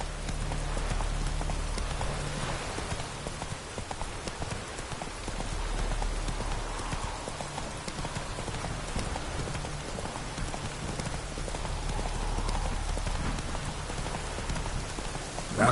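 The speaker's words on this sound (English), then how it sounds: "Whoa there, Roach." In The Witcher 3, a horse's hooves clop in a steady rhythm through falling rain, the patter of rain constant and the hoofbeats moderately close beneath it.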